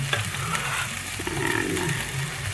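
Green onions hit a pan of frying cauliflower chicken turmeric rice, giving a steady, close sizzle with soft stirring scrapes running through the whole short stretch.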